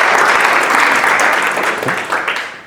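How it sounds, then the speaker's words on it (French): An audience at a business event in Marrakech applauds steadily, a dense wash of clapping that stays loud and then thins slightly near the end. "vous pouvez l'applaudir s'il vous plaît"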